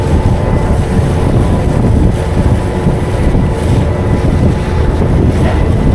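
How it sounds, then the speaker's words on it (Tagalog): Loud, continuous rushing of strong sea waves mixed with heavy wind buffeting the microphone, steady throughout with no voices. "Lakas ng alon."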